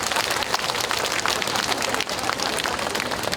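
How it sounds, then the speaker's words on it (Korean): Dense applause from a seated audience at a Buddhist dharma talk in a temple hall, steady crowd clapping filling the whole stretch with no pause. "이해가 좀 되면 박수 한번 치라고."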